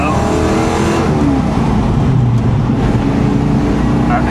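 A supercharged Mustang GT with a 347 stroker engine accelerating hard, a loud, close, continuous engine roar with rising pitch as it pulls through the gears.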